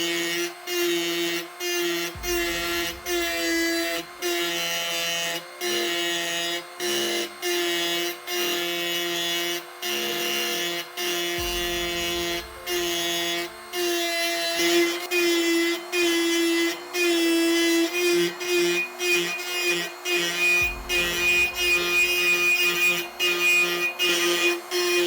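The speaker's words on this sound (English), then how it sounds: "I'm using one of these cutter heads on my hand drill." A hand drill fitted with a cutter head scores a steel armour sheet of a tank model, a steady high whining grind with a few brief pauses, close and loud, no talking.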